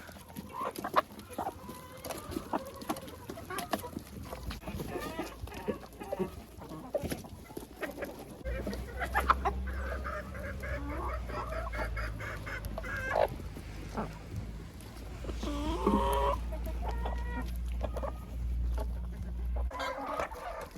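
Backyard hens in an unheated coop peck at bread soaked in cold water, clucking steadily and close by, with a flurry of overlapping calls building toward the end.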